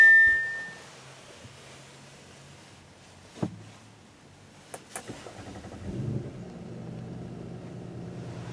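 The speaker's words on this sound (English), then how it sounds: "Now that is how I like my SUVs to sound when they start up." After some quiet clicks and a couple of chimes, a 2018 Audi SQ5 engine turns over and catches, settling into a low, steady idle rumble.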